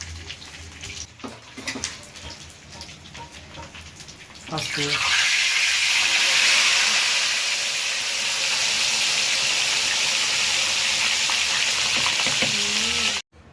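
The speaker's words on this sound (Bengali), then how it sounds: "তো ফাইনালি মাছ ভাজা হয়ে গেছে দেখো বন্ধুরা" Fish fries in hot oil in a home kitchen, a loud, steady sizzle that starts abruptly partway through and hisses continuously until it cuts off, with no talk over it.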